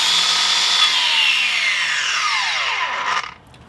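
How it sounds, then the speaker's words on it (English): A Bosch GWS 18V-180 PC cordless angle grinder whines at full speed, then its brake pulls the disc down fast in a falling tone before it stops with a brief quiet at the end. The tool sounds close and loud, and no one speaks. "With this Bosch grinder, you can see I can turn it on."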